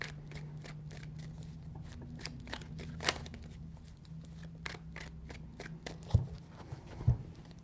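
Tarot cards shuffled in a rapid, even run of crisp riffling flicks, steady and close, with a couple of sharper taps near the end and no talking.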